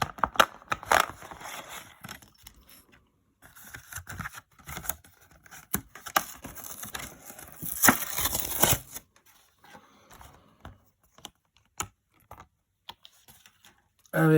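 A Pokemon booster pack being handled to free a card stuck crooked inside, with light crinkling foil, small clicks and rustles in irregular bursts close to the microphone and quiet pauses between them, alongside occasional speech.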